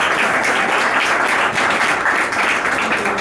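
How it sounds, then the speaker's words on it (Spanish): Dense, steady applause from an audience at a Latin American cultural week event in Barcelona, loud and continuous throughout with no voices rising above it. "un aplauso para ella"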